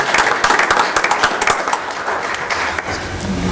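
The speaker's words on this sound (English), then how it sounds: "give them a round of applause" Applause at a village board meeting, loud close claps from a small crowd that start sharp and thick, then thin slightly toward the end with a faint murmur underneath.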